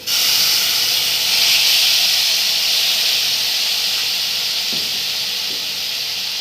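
Chicken manchurian frying on a high flame gives a loud, steady sizzling hiss throughout, close and continuous, with no talking over it.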